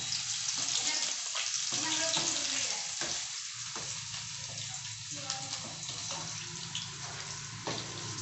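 Spices crackle and sizzle as they are tempered in hot oil in a pan, with a steady frying hiss punctuated by spatula stirs and scrapes, close and moderately loud.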